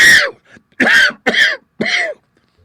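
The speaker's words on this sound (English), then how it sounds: "How long have you had that cough?" A man's coughing fit from irritation by nitre in a damp wine cellar: four harsh, rasping bursts in close succession, loud and near, with short gaps between them.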